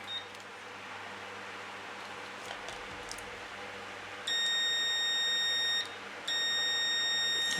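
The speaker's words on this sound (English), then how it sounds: "So now we can test for continuity." A continuity tester checking a homemade power lead gives a steady electronic beep, sounding twice, one tone of about a second and a half and then a second longer one after a short gap, over a quiet background hum.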